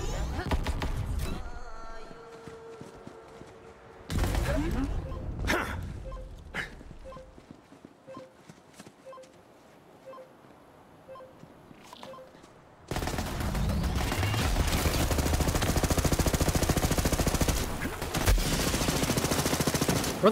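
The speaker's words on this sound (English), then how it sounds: "She's shooting hamburgers at me." Rapid weapon fire from a hamburger gun in Borderlands 3, a dense clattering burst of shots that comes in loud spells, with quieter gaps between them where faint game sounds and some voice remain.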